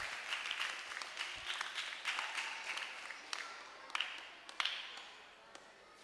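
Children clap for prize winners at a church Vacation Bible School final-day program, a soft scattered round of applause that sounds a little distant and fades toward the end.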